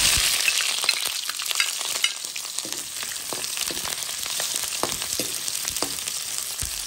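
Onions sizzle in a hot pan with a bright, dense hiss and scattered crackles and pops, loudest at the start and then settling into a steady close fry.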